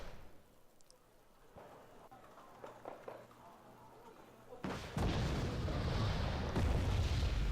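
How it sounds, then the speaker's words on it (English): Napalm launcher explosions in the PC strategy game Wargame: Red Dragon: a quiet battlefield bed breaks at about five seconds into loud, sustained, roaring blasts that keep rumbling to the end. "That napalm launcher."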